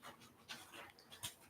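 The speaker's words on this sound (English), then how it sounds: "she's whimpering for a walk" A female dog whimpers and pants softly indoors, eager for a walk; short, faint breathy whines and a higher yelp near the end, close by with no talk.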